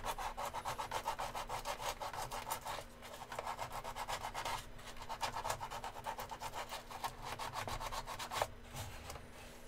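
Wood being sanded by hand with worn-out sandpaper during a workshop build, a close, steady run of rhythmic scratchy back-and-forth strokes with a few brief pauses.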